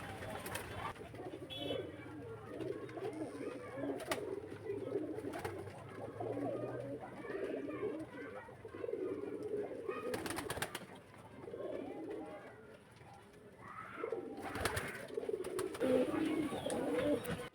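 Pigeons cooing steadily nearby, a soft continuous chorus of low throaty calls from several birds with occasional rustles and bumps.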